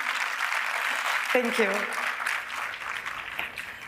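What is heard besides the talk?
audience applause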